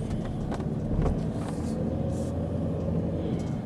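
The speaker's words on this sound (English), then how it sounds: "So let's drive through San Dimas." A car drives through the streets of San Dimas, heard from inside as a steady, loud engine and road rumble with occasional faint higher whooshes of passing traffic and no talking.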